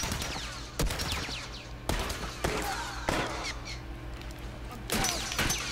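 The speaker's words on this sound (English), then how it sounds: "Stop shooting me!" Gunfire in The Last of Us multiplayer video game, several sharp shots at irregular intervals, each with a short echoing tail, over a faint steady hum.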